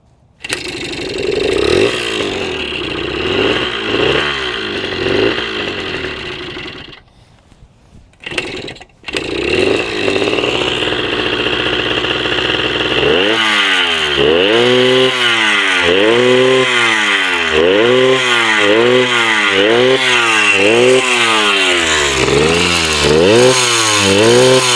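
The two-stroke 80cc engine of a Suzuki DS80 dirtbike runs loud and close, buzzing and revving in rising and falling surges, cutting out briefly, then restarting and revving repeatedly in steady cycles.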